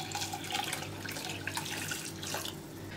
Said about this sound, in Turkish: içerisine kettle'da kaynattığım kaynar suyu ekliyorum